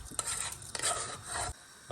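Rice being stirred into chicken pulao, a steady scraping and rubbing in the pot with soft sizzling underneath, close up with no talk.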